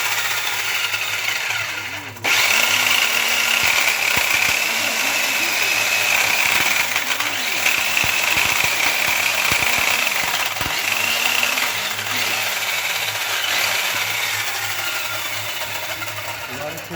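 A Soviet-made electric chainsaw cuts through wood in a trial run, its loud, high, steady motor whine starting abruptly and pulsing as the blade bites, then easing slightly toward the end.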